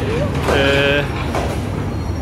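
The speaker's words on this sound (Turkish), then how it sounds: "Tren hala devam ediyor." An express train in Sri Lanka rumbles steadily as heard from inside a carriage, a loud, constant roar with a brief higher whine, while a voice speaks over it.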